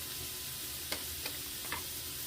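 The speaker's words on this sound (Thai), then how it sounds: "พัดไปให้น้ำเพิ่นแห้งเนาะพี่น้อง" Frozen wild mushrooms, blanched beforehand, are stir-fried in a pan to dry off their water, giving a steady soft sizzle with a few light scraping stirs of a utensil.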